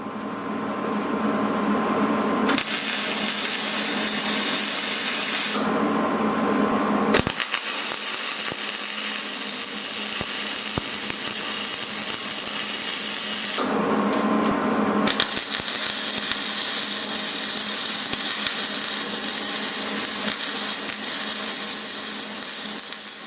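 A 4-inch angle grinder dresses freshly cut steel teeth for a log arch, running in long continuous bursts of high, gritty whine with short pauses between passes, loud and close.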